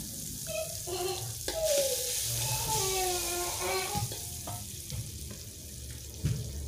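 Margarine melting and sizzling in a hot pan before shallots and garlic go in for Aceh-style shrimp noodles; a steady close frying hiss with soft stirring and clinks throughout, no talk.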